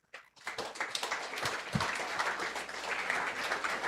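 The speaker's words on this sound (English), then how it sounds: "Give a big clap for us." Audience members clap together at the valedictory ceremony of a national computer science conference, a quiet, somewhat distant wash of applause that builds quickly after a short pause and holds steady.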